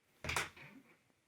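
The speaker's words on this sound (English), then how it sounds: "My closet door is extremely squeaky." A squeaky closet door opens with a short creaking groan and a soft knock, brief and close by with no talking.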